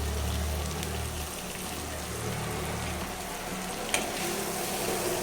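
Cauliflower fry curry with green chillies and coriander is stirred in a hot pan, a steady soft sizzle with a low rumble and one sharp clink of a utensil near the end.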